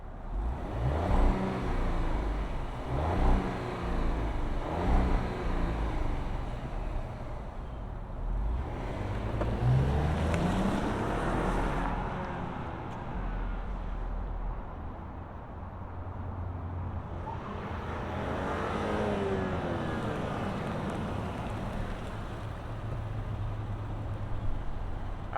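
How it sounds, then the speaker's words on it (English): A 2025 Audi Q7 55 Prestige V6 with exposed exhaust starts, idles and revs in several rising and falling bursts, loud and close, with a steady low rumble between them. "let's fire up this V6. We got real exposed exhaust."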